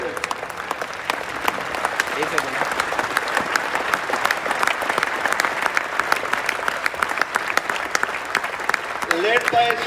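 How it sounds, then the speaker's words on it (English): An audience at a badminton championship press event gives a standing ovation, with dense, steady clapping that is loud and sustained throughout and some crowd noise mixed in. "Could you please give them a standing ovation?"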